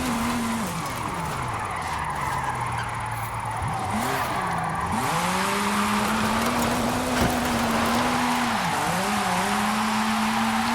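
A 2021 Aston Martin DBX with an all-wheel-drive drift tune slides through the Forza Horizon 5 racing game, its engine droning steadily under long, rising and falling tire squeals, loud and continuous throughout.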